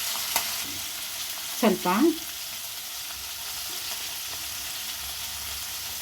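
Chopped onion and green chillies fry in a pan for masala dosa filling, making a soft steady sizzle with a brief scraping stir near the start, while a voice speaks one short word.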